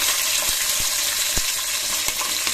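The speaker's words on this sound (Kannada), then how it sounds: "ಈ ದಪ್ಪ ಮೆಣಸಿಕಾಯಿ ಒಂದು ಸ್ವಲ್ಪ ಎಣ್ಣೆಯಲ್ಲಿ ಫ್ರೈ ಆಗಲಿ ನೀಟಾಗಿ." Capsicum sizzles steadily in hot oil for a savoury vermicelli upma, a dense, even hiss with a few sharp clicks of stirring scattered through it, close up and without any voices.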